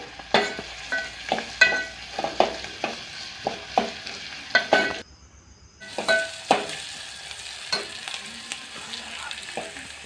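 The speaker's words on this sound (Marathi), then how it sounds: "असे पळीने फिरून घेऊ कढीपत्त्याची चार पाने घालू लसूण वाटलेला लसूण घालायचं" A ladle scrapes and stirs through curry leaves and ground garlic frying in a pan for a cauliflower dish, with rhythmic clacks and a light sizzle and a brief quiet gap midway.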